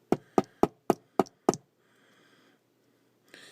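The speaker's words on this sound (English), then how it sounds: "Take your little hammer." Six quick, evenly spaced metallic taps from a small hammer on a brass rod in a Hot Wheels wheel swap, then a faint rustle and one softer knock at the end.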